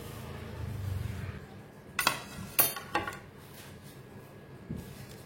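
A spoon clinks and scrapes in a bowl as bitter gourd pickle is mixed with oil and pickle powder, giving a few sharp knocks and clicks over a soft, quiet background.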